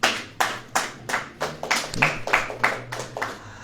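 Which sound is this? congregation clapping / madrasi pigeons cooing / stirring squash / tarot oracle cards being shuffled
congregation clapping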